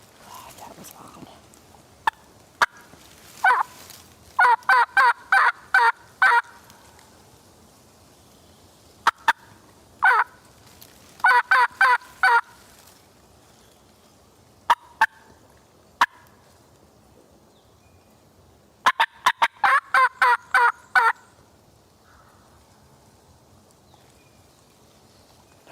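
Wild turkey gobbler in spring woods trailing behind hens, gobbling in several loud, rapid rattling bursts separated by quiet gaps, with sharp isolated clucks or knocks in between and faint background hiss.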